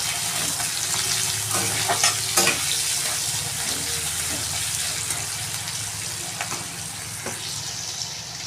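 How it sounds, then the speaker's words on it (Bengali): Chopped raw onion fries in oil with a bay leaf, a steady close sizzle with scattered crackles and occasional clatter of stirring, continuous and fairly loud with no voices. "কাঁচা পেঁয়াজ কুচানো দিয়ে দিলাম। এটা একটুখানি ভেজে নেব হালকা ব্রাউন করে"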